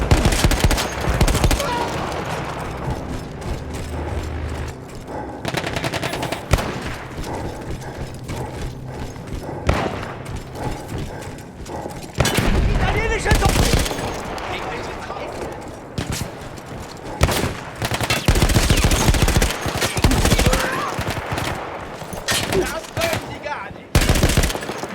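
A mounted machine gun fires in Battlefield 1, set on the Italian front, in repeated loud bursts of rapid gunfire with pauses between them, mixed with battle noise and a voice speaking.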